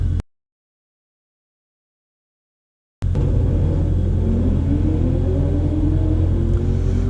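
A Chevy Camaro ZL1 launches on a quarter-mile timed run after a stretch of silence, a loud rumbling engine note rising steadily as it accelerates away.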